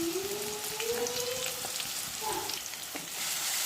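Onions and curry leaves frying in a pan make a dense, continuous crackling sizzle, close and moderately loud, with a faint tonal whine drifting over it.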